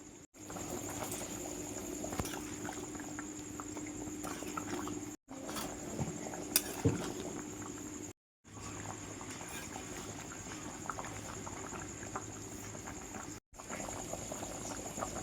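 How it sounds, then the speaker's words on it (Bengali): Mutton and potato curry boils steadily in a pot, a continuous close bubbling and burbling that runs nearly unbroken, with a few brief cuts of silence. "দশ পনেরো মিনিট সময়ের জন্য ভালো করে ফুটিয়ে নেবো"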